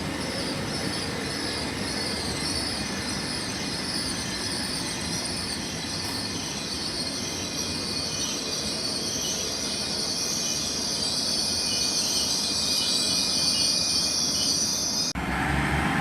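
A Class 802 train unit, 802-005 leading, rolls through a station with a loud, continuous rumble and a high wheel squeal running throughout, broken by a sudden drop in level near the end.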